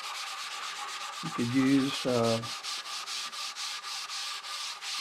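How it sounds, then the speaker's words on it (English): A maroon Scotch pad rubs over a first coat of finish on a cherry end table, giving a steady, close, repeated scrubbing rhythm of back-and-forth strokes, with someone speaking briefly over it. "I'm going to give it a light wipe down with some of this maroon Scotch pad"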